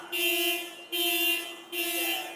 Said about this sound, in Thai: อ๋ออันนั้นเขาเทสแตรเหรอ